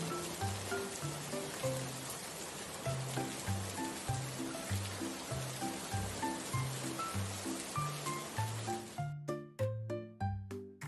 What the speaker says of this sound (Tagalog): basang-basa ka na ng ulan